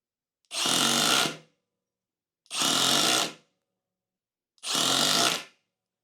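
A Milwaukee M18 Surge hydraulic impact driver runs at top speed setting 3, driving a 3-inch drywall screw in three separate bursts of about a second each, loud and close, with silence between them.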